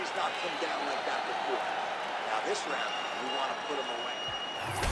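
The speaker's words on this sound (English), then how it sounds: "the crowd voicing its appreciation after that round" Arena crowd at an MMA featherweight tournament bout cheering and applauding between rounds, a steady dense roar of claps and voices filling the whole stretch at moderate loudness.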